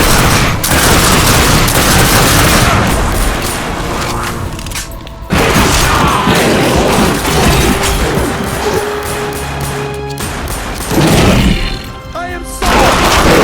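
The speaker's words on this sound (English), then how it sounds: "How many times do I have to shoot her before she surrenders?" Sustained gunfire in the video game The Darkness 2, loud and dense bursts with booming impacts and crashes running nearly continuously, briefly thinning around the middle before resuming.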